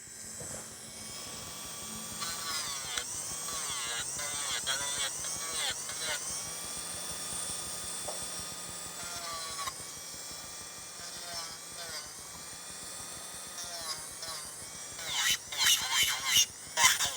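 An electric nail file grinds Swarovski crystals off fingernails with a thin, steady high whine that rises and dips as it presses in, while someone talks throughout.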